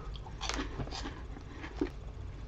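Pizza-flavored puff snacks from a Japanese snack box are chewed close to the mic, soft crunching bites repeating in a loose rhythm, quiet and without talk.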